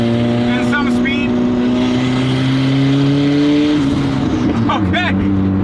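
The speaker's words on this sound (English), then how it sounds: "That's some turbo noise and some speed." A car accelerates hard with audible turbo whine, its engine tone climbing steadily and then dropping as it shifts, loud and close, with a voice speaking briefly over it.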